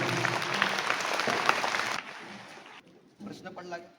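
An audience at a school event claps loudly for about two seconds before the applause cuts off and a voice begins talking.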